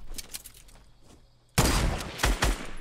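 Gunfire in Fortnite during a tournament match: faint scattered shots at first, then a sudden loud burst of rapid fire with several sharp cracks, close and dominant.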